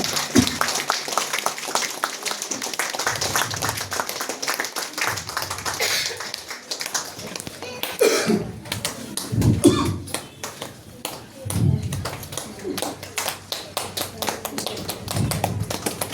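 Many people at a church thanksgiving gathering clap together in a steady, dense patter of handclaps, with voices talking over the applause at moments.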